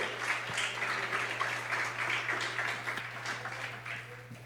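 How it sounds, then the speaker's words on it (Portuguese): A church congregation applauds during a sermon, a steady wash of clapping at moderate level with a constant low hum beneath it. "Você pode aplaudir o nome do Senhor?"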